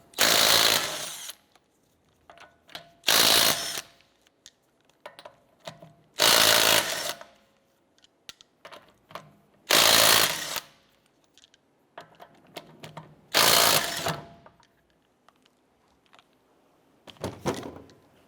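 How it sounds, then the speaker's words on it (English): Lug nuts come off a 2008-2012 Honda Accord rear wheel with a 19mm socket: five loud, close mechanical bursts about three seconds apart, separated by quiet clicks and handling noises, then a shorter burst at the end. "Using a 19mm socket, let's go ahead and remove our lug nuts."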